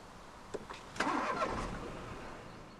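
2015 Ford Focus 1.0-litre EcoBoost three-cylinder petrol engine with a push-button start: a brief starter crank catches into a short flare of revs, then settles to a faint, quiet idle.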